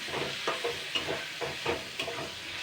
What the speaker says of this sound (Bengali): এবার এটা দিয়ে মাছের ডিমটা দিয়ে ভালো করে আমি নাড়াচাড়া করে নেব